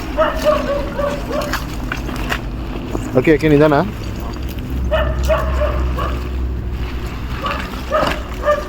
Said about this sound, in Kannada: ಯಾವುದೋ ಇದು ನಾಯಿ ಈ ಥರ ಬಡ್ಕೊಳ್ತೈತೆ